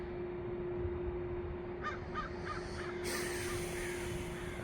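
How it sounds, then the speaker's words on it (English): Crows caw outdoors in a quick run of four harsh calls, fairly distant and faint over a steady low background hum, followed by a brighter rush of sound. "There's crows right now, which is eerie."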